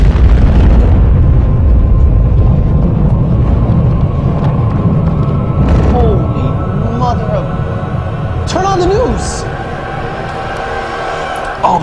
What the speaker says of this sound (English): A nuclear explosion just went off